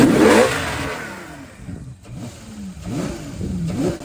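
Ferrari 812 GTS V12 engine revving up close, a loud opening blip followed by a lull and then several sharp rising revs toward the end.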